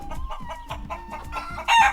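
Chickens clucking in short repeated bursts in a Guaraní indigenous community in Paraguay, fairly close, with a louder squawk near the end.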